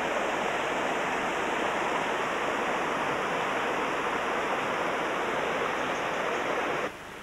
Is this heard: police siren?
no